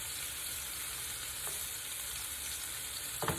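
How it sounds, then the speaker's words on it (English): A fish fillet fries in olive oil in a skillet with a steady, even sizzle throughout, close by, broken by a couple of faint utensil taps, with no talking. "I'm cooking everything in olive oil today"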